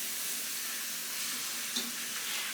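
Roast beef sizzles in a pan with a steady, dense, hissing fry as it is basted, with one faint spoon clink partway through.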